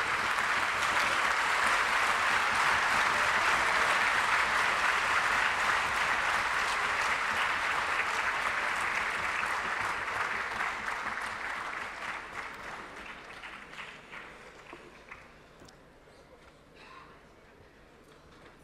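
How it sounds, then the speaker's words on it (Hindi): A large audience at a national awards ceremony for persons with disabilities claps for the winners, a loud, dense roar of hands that holds steady for several seconds, then gradually thins and fades away toward the end. "जोरदार तालियां इन सभी विजेताओं के लिए।"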